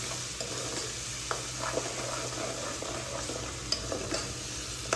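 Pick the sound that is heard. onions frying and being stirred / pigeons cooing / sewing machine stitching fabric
onions frying and being stirred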